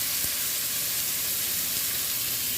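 Chicken, onion, tomato and ground masala fry in oil inside a pressure cooker, giving a steady, dense sizzling hiss that runs without a break, close and fairly loud.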